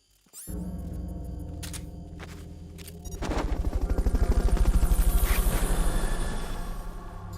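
Loud rotor chop of a Fulton recovery helicopter in a video game building steadily, with a rhythmic thumping pulse rising over a deep engine drone, close.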